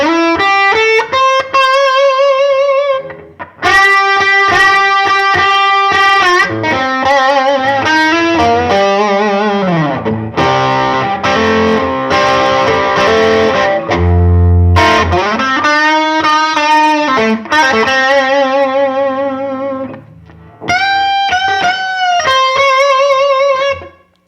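An electric guitar through a Notadumble boost pedal plays bright, sustained chords and lead notes with a boosted, slightly gritty tone, loud and close, with brief pauses between phrases.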